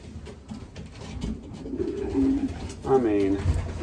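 A racing pigeon hen with a single pintail coos twice in a low, rolling burble at close range, following a stretch of soft handling noise.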